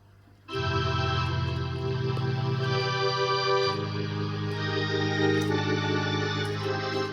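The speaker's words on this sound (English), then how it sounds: "string synth on its own sounds like this" A vintage string synthesizer sounds alone, its lush, sustained chord swelling in after a brief pause and holding steady with one chord change partway through, with no voices.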